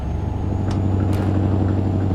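A truck engine in Euro Truck Simulator 2 produces a steady, loud, low droning rumble that holds even throughout, with faint higher whooshes passing over it.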